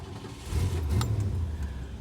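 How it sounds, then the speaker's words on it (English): A Ford 351 Windsor V8 in a Mercury Cougar cranks briefly and catches, settling into a loud, steady low rumble close by, with a faint jingle of keys near the start. "that 351 Windsor fires right to life"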